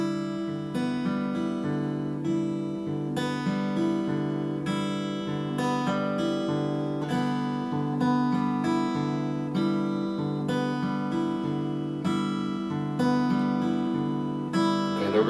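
An acoustic guitar picks a steady repeating pattern of single notes across the strings, even in rhythm, close and clean with no talking.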